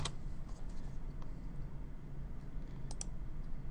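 A few sharp clicks of the backspace key on a computer keyboard, one near the start and a quick pair near the end, over a steady low hum.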